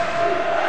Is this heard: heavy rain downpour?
no